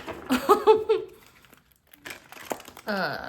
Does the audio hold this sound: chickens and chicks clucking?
no